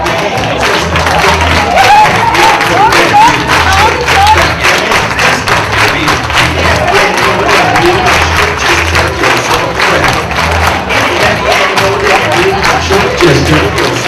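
A group at an early childhood conference claps hands and stomps feet along to a children's action song, rhythmic thumps and claps repeating steadily for a long stretch, with some voices and crowd noise mixed in.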